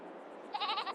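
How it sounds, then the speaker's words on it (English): A single wavering goat bleat from a farm in the video game Farming Simulator 22, clear and fairly close, rising over a quiet ambient farm background. "For our goats, we've got baby goats, regular goats, and male goats."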